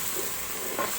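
Ginger and garlic frying in hot oil in a pan for a Bangladeshi beef curry, giving a steady close sizzle with a brief stirring scrape near the end.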